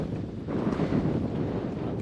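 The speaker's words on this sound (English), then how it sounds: "It's very windy" Strong wind on an open mountain trail along the Camino de Santiago, a steady low roar of gusts buffeting the microphone with no voices.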